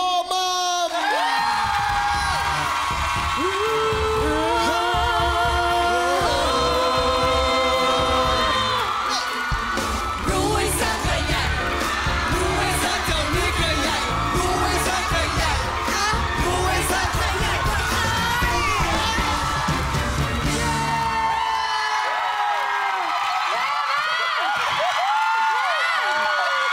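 A studio audience at a Thai television comedy show applauds and cheers to welcome guests, with dense, continuous clapping, whoops and shouts alongside loud music throughout, fading slightly only at the very end.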